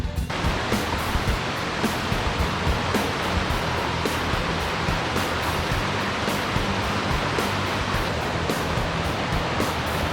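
A gorge waterfall pours steadily into the lake below, giving a loud, constant, broadband rush that lasts throughout with no talking.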